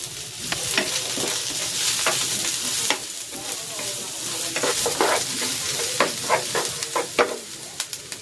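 Lemongrass and onion sizzle steadily in a frying pan for a Filipino lemongrass chicken dish, a continuous hiss broken by stirring scrapes and clinks throughout.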